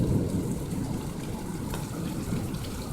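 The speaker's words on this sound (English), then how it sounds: "this thunder's been going in the background, just like moving around" Thunderstorm rumble rolling steadily and loudly in the low range, mixed with the hiss of rain, continuous and broad with no voices.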